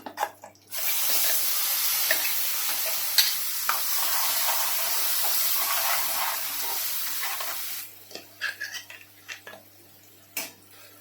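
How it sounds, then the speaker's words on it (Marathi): Steady hissing sizzle of Malvani fish curry masala paste frying in a pan, continuous for several seconds, then giving way to scattered scraping and stirring clicks. "हा मसाला आपण चांगला भाजायचा आहे"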